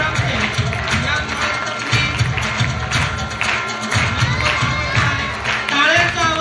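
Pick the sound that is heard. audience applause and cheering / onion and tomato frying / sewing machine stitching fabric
audience applause and cheering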